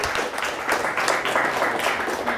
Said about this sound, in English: Nice round of applause for both teams.